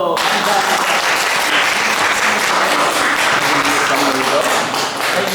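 Audience applause at a children's Sunday church service, loud and dense clapping filling the whole stretch with a few heavier thumps mixed in, steady from start to finish.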